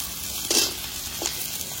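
Diced potatoes, pumpkin and chillies fry in a pan with a soft, steady sizzle, punctuated by two brief stirring scrapes.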